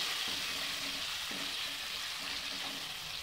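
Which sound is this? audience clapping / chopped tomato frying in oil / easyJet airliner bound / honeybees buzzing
chopped tomato frying in oil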